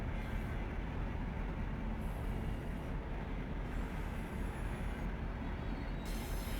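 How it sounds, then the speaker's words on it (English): BNSF freight train in the Run 8 train simulator at Cajon Pass, a loud, steady broadband rumble of rolling wheels that continues unbroken throughout, with no voices. "We have a BNSF train on the, looks like the other tracks over here to our left."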